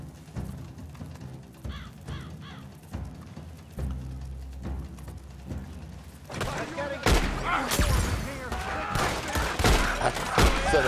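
Gunfire in Red Dead Redemption 2 Online: after quieter sparse shots and game ambience, a dense burst of loud, rapid overlapping gunshots breaks out and keeps going, with crow-like cries in the background.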